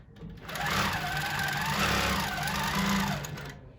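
Longarm quilting machine stitching an edge-to-edge pattern under computerized Pro Stitcher control, a steady close mechanical whir with a rapid needle rhythm that holds level for about three seconds, with no talking.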